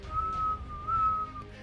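A person whistles a long, steady, wavering tone in two sustained stretches to imitate wind blowing through trees, clear and alone with no talk.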